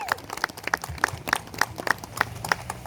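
Applause for students and teachers at an outdoor dedication in Suffolk, with loud, distinct claps in a fairly even rhythm from a small group nearby, sounding for about three seconds.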